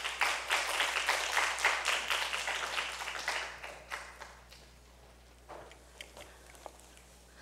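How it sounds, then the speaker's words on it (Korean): An audience claps to welcome a speaker at a church summer Bible school teaching session. The dense applause is steady for about four seconds, then thins into a few scattered claps before fading. "박수로 맞이해 주세요."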